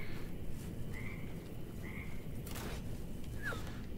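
A frog croaks in the video game Mortal Shell, giving three short, chirpy calls spaced about a second apart over a constant ambient wash, with no talking.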